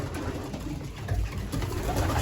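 Racing pigeons coo softly in a loft, low murmuring calls over a continuous rustly background, with no talking.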